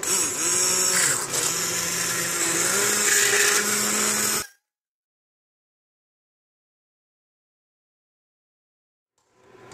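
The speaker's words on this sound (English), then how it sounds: "I think I'm going to use my handheld mixer and chop up all the little uh, particles" A handheld mixer whirring through cooked homegrown tomatoes into paste, a loud steady motor drone with pitch dips as it bogs down, running about four seconds before abruptly stopping into silence.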